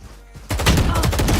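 Gunfire during a Valorant match: after a quiet start, a rapid, loud burst of repeated shots fires for about a second.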